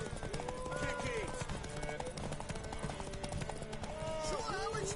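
Horse hooves clip-clop in a steady rhythm in The Witcher video game, mixed with game music and characters talking.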